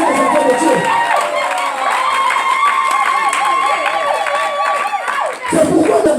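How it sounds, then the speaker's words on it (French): Church congregation cheering and acclaiming, a loud crowd of many overlapping shouting and cheering voices with scattered clapping, sustained throughout with a brief dip near the end. "Qui le croit, acclame Jésus devant moi"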